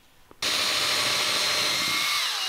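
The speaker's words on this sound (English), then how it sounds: "we're gonna drill some holes through this for the bolts to go through" Power drill bores holes through a thick wooden spacer piece, a steady loud whirring grind that starts abruptly after a brief quiet moment and runs continuously to the end.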